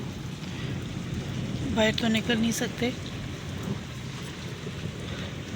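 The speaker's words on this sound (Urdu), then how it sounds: "یہ دیکھیں جی کتنی تیز بارش ہو رہی ہے،" Heavy rain pours down in a thunderstorm, a steady loud wash of noise that continues throughout while someone briefly speaks over it.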